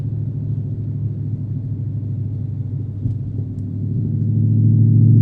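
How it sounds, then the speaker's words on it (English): Dodge Charger Pursuit engine idling while warming up on a cold morning, a steady low rumble that swells slightly louder toward the end, close and alone. "I'm trying to let the car warm up because I know the transmission and stuff likes to act a little sluggish when it's cold."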